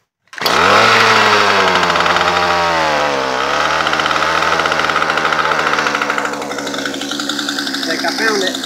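Small 2-cycle engine running on vegetable oil starts with a sharp buzz and settles into a loud, close, raspy drone, its pitch dipping and rising as the throttle shifts, with a voice speaking over it.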